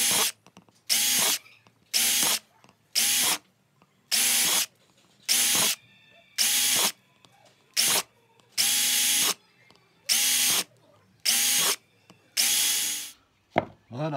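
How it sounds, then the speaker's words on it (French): Power drill boring holes in parts for a homemade mask built from a lemon squeezer, about a dozen short, loud whirring bursts in a steady rhythm with quiet pauses between them. "Pareil, on va percer les trous."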